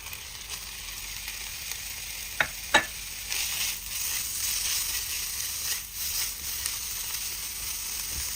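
Pork or beef mince frying in a pan with scallion whites, a continuous close sizzle broken by a couple of sharp clicks and occasional stirring scrapes.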